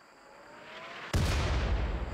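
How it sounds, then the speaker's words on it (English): A mortar round fires in a tropical rainforest game of Rimworld, a single sudden loud boom cutting in after a quiet low hum and then rolling on as a broad, sustained rumble. "Mortar shot number 2 then adds onto that"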